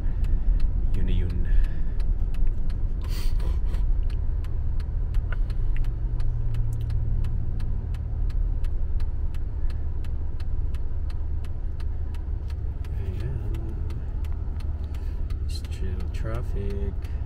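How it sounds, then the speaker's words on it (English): Steady road traffic in a Philippine setting, a continuous low rumble of passing cars and engines under people talking throughout. "Traffic"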